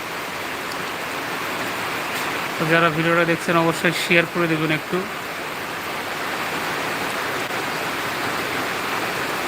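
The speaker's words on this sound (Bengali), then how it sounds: "বৃষ্টি পড়তেছে দেখেন কি অবস্থা আর টিনের চালে বৃষ্টির শব্দটা কিন্তু আসলে অন্যরকম" Heavy rain drums on a tin roof in a steady, dense hiss that runs the whole time, while someone speaks briefly over it in the middle.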